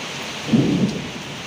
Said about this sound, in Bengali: অবশেষে আজকে হচ্ছে বৃষ্টি হলো শরিয়াতপুরে